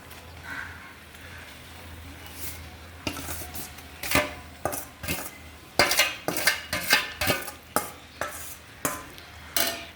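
Boiled banana flower tipped into a pan and stirred with a metal spatula, giving a run of sharp, close scraping clatters that grow busier and more rhythmic toward the end, over faint kitchen background.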